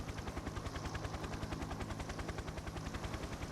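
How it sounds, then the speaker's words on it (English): A helicopter gunship in the Cold War video game Toy Soldiers thrums with a fast, even rotor chop that stays loud and constant throughout, alone with no talk. "Also, helicopter gunship."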